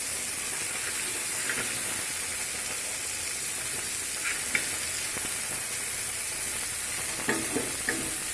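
Chicken sticks sizzle in a frying pan with a constant close hiss, while occasional soft scraping and knocks mark them being stirred.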